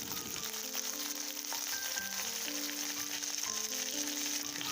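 Dried red chillies and curry leaves sizzle steadily in hot oil for an onion curry, a continuous close hiss and crackle with music playing underneath.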